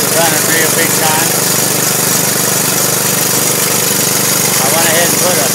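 Small engine running on wood gas from a gasifier, driving an alternator, with a steady loud drone that holds without a break. Faint speech sits under the running motor.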